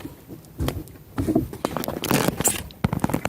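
Heavy rain falls on a fishing pontoon, a close, irregular patter that builds into dense bursts of spattering drops, mixed with scattered knocks from nearby movement.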